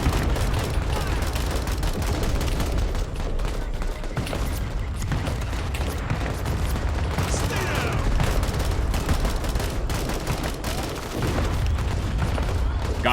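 Vietnam War video game battle with dense, continuous artillery booms and gunfire rolling loudly throughout, the explosions overlapping in a constant barrage.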